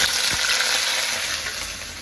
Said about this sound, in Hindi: सब्जी को मैंने छोक दिया है।